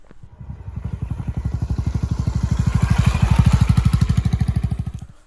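Honda CB350 Hiness, a 348cc single-cylinder four-stroke motorcycle, running close by with a loud, even thumping beat that builds briefly and cuts off at the end.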